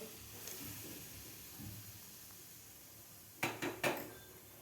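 Hot oil is poured into a rice flour mixture for Satara-style sajuri, a faint hiss low in a quiet kitchen, then a few sharp clinks of a spoon against a metal bowl near the end.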